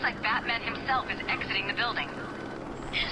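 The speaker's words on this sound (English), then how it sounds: "Hi, helicopter." A helicopter flies overhead in the video game Batman Arkham City, its steady rotor drone running beneath someone talking throughout.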